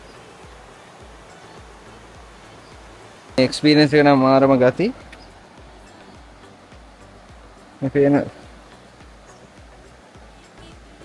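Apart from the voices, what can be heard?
small stream flowing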